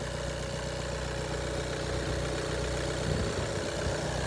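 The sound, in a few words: 1.6 diesel car engine idling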